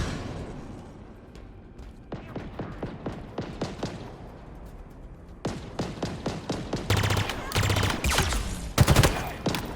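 Rapid gunfire from Halo Infinite combat against Grunt and Jackal enemies. Bursts of automatic fire start sparse, then turn into dense, loud volleys in the later half, with a few heavier booms near the end.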